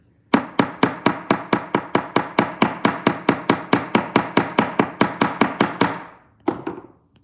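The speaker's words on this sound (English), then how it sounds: "I'm gonna lay the ear wire onto this, and I'm just gonna kind of hammer just this top angle right here." A metal ear wire is hammered flat on a bench block for beginner earrings, struck in a fast, steady run of about twenty-five sharp, ringing taps close up, then a short pause and one final blow.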